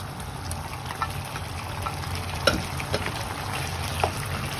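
Pork and eggplant fry for pork binagoongan, a steady close sizzle and crackle running throughout with a few sharper pops and stirring clinks, no talking.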